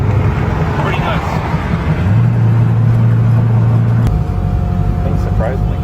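A 1650 HP Mazda RX7 sleeper with a 2.43 final rear gear accelerates hard, a loud steady engine drone rising in pitch before a shift, with people talking over it.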